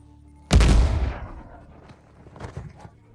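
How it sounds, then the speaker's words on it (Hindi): A grenade explosion in a third-person action-adventure shooter: one loud, sudden blast with a long rumbling decay, followed by scattered fainter gunshots and clatter. "सावधान, ग्रेनेड।"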